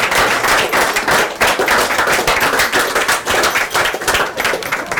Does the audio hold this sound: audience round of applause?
yes